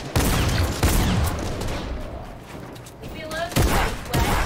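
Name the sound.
shotgun fire in the video game Fortnite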